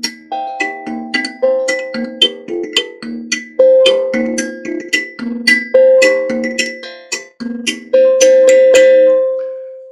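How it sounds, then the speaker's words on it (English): Tongue drum and kalimba playing together, ringing metallic notes struck one after another in a loose melodic pattern, each tone decaying slowly, close and fairly loud, the last note left to ring out alone. "And we also used the tongue drum to give it a little more sound,"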